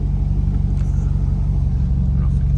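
A 2006 Chevrolet Corvette Z51 coupe with a 6.0L V8 and six-speed manual runs with a steady, loud, low rumbling engine note that holds even throughout, a voice speaking over it.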